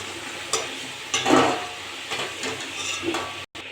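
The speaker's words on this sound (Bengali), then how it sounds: "আলুগুলো ভালো করে ভেজে নিয়েছি" Potatoes frying in hot oil give a soft sizzle, broken by a few scraping stirs of a spatula against the pan, close and moderately quiet.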